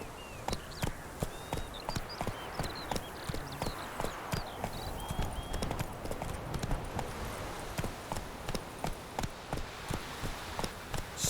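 Hooves of Roach, a horse in the video game Witcher 3, clip-clopping in a steady regular walking rhythm over ambient outdoor sound with faint bird calls, close and clear.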